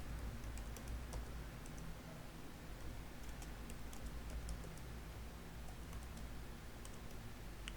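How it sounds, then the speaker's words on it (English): Fast keystrokes on a computer keyboard while a name is entered into a running Python program, the clicks soft and fairly distant over a steady room hum with no voices. "I'll type my name Chitrank Dixit into it"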